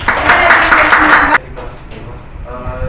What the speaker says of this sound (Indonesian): Silakan tepuk tangan untuk Kayla